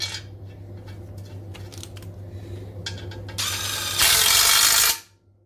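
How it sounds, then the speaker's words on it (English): A ratchet wrench drives two bolts on an ACME adapter plate against a bell housing flange, with close, steady clicking that swells into a louder, denser burst near the end before stopping abruptly. "Now I'll just again tighten it up with 2 bolts right next to"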